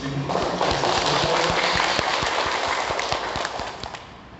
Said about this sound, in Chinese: 我们以热烈掌声感谢